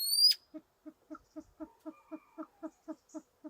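A male silver pheasant in a farm enclosure gives a regular series of about a dozen short, soft, hooting notes at an even pace, after a brief sharp squeak at the start.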